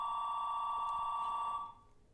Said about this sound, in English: my telephone's ringing in my house